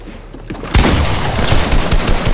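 Loud, rapid bursts of gunfire from the video game Fortnite break in after a quiet moment, dense and continuous like sustained automatic fire, close and without speech.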